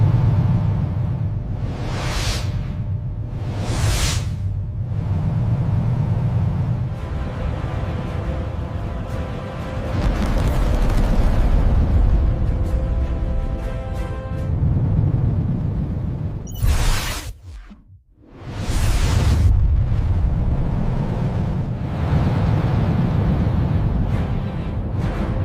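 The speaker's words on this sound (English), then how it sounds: "The full stack, propelled by the solid rocket boosters," A Space Shuttle lifts off on its solid rocket boosters with a loud, continuous roar and crackle. The sound surges through the whole stretch, broken by a few sharp whooshing swells and one brief sudden drop.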